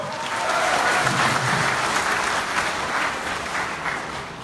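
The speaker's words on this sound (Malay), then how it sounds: "Beri tepuk tangan yang gemuruh." Thunderous applause from a large crowd at the 2018 Pakatan Harapan convention in Negeri Sembilan, a dense, sustained clapping that swells and holds for several seconds before easing slightly.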